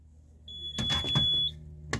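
Smoke detector wired into a home alarm system test setup sounds a high steady beep lasting about a second, with clattering handling noise and knocks around it, close and fairly quiet.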